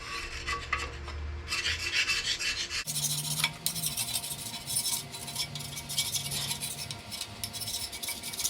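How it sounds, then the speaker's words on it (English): Hand scraping on engine parts with a Mortke Super Scraper, during cleanup of a head with broken bolts and cam bearings: steady rasping, rubbing strokes close up, repeated throughout with no talk. "Using my Mortke Super Scraper. Pricey, but these things are awesome."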